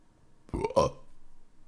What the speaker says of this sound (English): Hey, burp number 1.